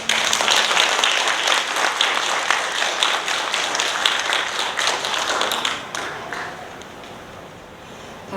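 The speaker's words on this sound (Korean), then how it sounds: "여러분의 큰 박수로 모시겠습니다" An audience at an indoor lecture event claps loudly and steadily, then the applause thins and fades toward the end.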